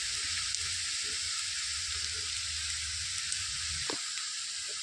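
Thinly sliced onions frying in a pan for a bitter gourd fry, an even, quiet hiss of sizzling oil with a low hum underneath and a single faint scrape near the end.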